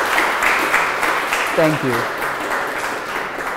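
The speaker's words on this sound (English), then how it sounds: "Could you please give a big round of applause for the organizers?" Conference audience claps in a steady round of applause, with a voice speaking briefly over it midway.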